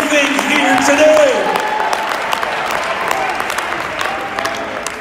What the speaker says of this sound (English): Somebody give the Lord a big round of applause.